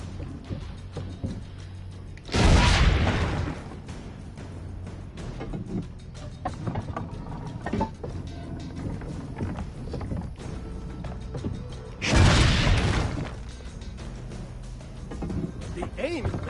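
Two heavy, booming ship-cannon blasts roughly ten seconds apart in Assassin's Creed Brotherhood, each loud and broad, over a continuous bed of game background noise and music.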